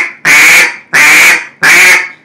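A duck call blown too high sounds three loud, harsh, evenly spaced quacks close up, each a sustained nasal blast with short gaps between.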